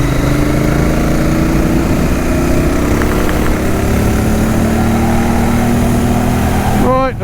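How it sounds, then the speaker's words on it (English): A Royal Enfield Continental GT motorcycle with a Stage 1 motor upgrade is ridden near the avenue at Avebury, its engine droning steadily and loudly the whole time, with a brief change in pitch at the end. "the Continental GT just about to enter the avenue at Avebury"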